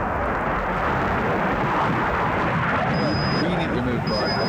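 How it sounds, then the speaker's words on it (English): A military aircraft passes overhead during a field exercise, heard as a loud, continuous broadband roar that fills the whole moment with no break. "Roger, the aircraft's overhead now."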